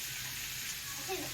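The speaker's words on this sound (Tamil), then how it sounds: "நல்லா சேர்த்து வதக்கிக்கணும்" Tomatoes sautéing in a pan for tomato chutney give a steady, soft sizzling hiss that continues without a break.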